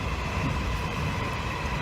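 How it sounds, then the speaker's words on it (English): A train rolls along a track close by, giving a continuous loud rumble with a steady hiss and a faint tonal whine, and no voices over it. "right next to a train track here."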